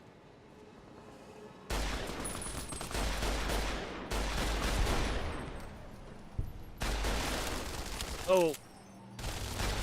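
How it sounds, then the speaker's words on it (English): Shoulder-mounted machine gun in Fallout New Vegas fires in long, loud sustained bursts separated by short pauses, with a brief exclamation from a voice between volleys. "Shoulder-mounted machine gun."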